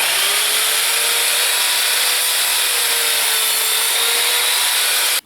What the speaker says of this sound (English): The first thing I'm going to cut is a piece of decking at 90 degrees.